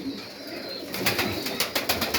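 A few soft, low coos from pigeons, then a series of rhythmic fluttering bursts like wingbeats, fairly close against faint background noise.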